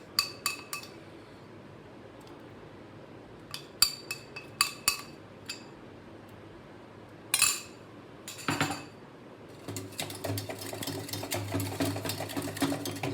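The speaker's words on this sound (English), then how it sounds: "I will whisk it again." A whisk clinks against a pot at first in a few sharp separate strikes, then rattles quickly and steadily through a thickening cheese sauce for creamy pasta; fairly close, no speech.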